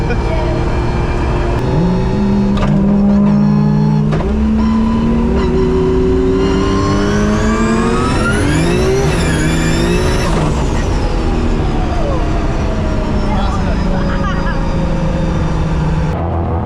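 A race car's engine revs hard while drifting at a car event, a loud, close, continuous roar whose pitch climbs and swoops through repeated rev surges.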